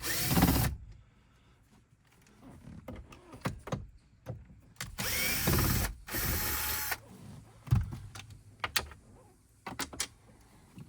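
Small screws are backed out of the dash trim of a 2012–2019 Nissan Frontier, with short rattling, clicking and whirring bursts from a nearby hand tool separated by quiet gaps.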